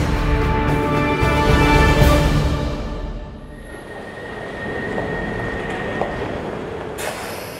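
An underground train runs loudly, its rumbling roar and faint squealing wheels fading and easing partway through before a brief rise again near the end, with no one talking.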